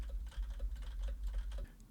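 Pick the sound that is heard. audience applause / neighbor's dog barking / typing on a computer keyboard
typing on a computer keyboard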